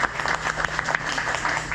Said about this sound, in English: big round of applause for the two previous speakers